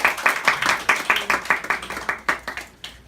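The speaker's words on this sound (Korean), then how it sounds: "하나님께 감사의 박수 한번 하겠습니다." A church congregation claps together in thanks during a worship service, a close, distinct run of quick hand claps with an uneven rhythm that thins out toward the end.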